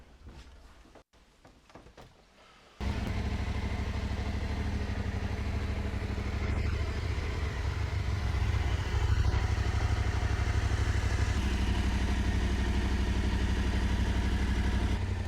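Yamaha Tenere 700 motorcycle with a Rally Tower Pro fairing starts with brief clatter, then its engine settles into a loud, steady close-up drone while riding, rising slightly in pitch and volume toward the end.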